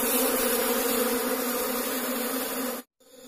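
Asian honey bees (Apis cerana) swarm around a full hive box: a dense, steady, close buzzing drone that fills the scene before cutting out abruptly near the end.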